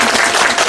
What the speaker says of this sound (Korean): 잘했으면 박수 크게 치고